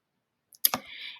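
A single close computer click lands in near silence, followed by a brief soft rustle that fades out.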